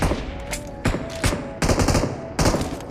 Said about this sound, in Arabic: ضرب نار برضو